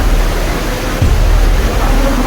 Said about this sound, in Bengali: আমার পিছনে যেখান থেকে একটু জল বইছে